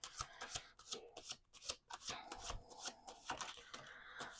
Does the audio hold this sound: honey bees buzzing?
no